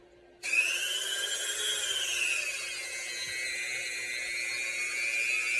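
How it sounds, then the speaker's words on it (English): Rotary polisher buffing a brass thurible with Brasso, a steady high whine that starts abruptly after a short silence and holds continuous and loud throughout, with no talking. "I'm burning incense with like a rotary polisher"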